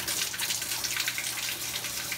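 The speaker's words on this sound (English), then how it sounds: "Add a little bit of water in here." Water pours steadily into a new empty glass aquarium tank in a fish room, making a continuous loud gushing splash with no pauses and no talk.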